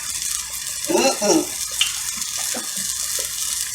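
Salmon patties frying in hot oil in a home kitchen, a steady hiss and crackle of sizzling with a brief splash as one is eased into the pan, and soft speech in the background.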